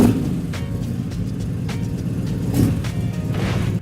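A street rod's engine fired up at a Kansas car cruise, a steady low rumble running the whole time with a brief swell partway through, heard alone without voices.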